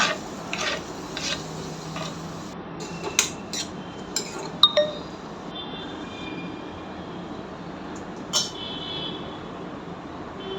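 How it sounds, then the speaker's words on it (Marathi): Onion sautéing in a pan for paneer bhurji, with a spatula rasping and scraping against the metal in irregular strokes and a few sharper clinks, all over a steady low hiss. "आता कांदा परतून पूर्ण शिजेपर्यंत थोडं लाल होईपर्यंत परतून घ्यायचा"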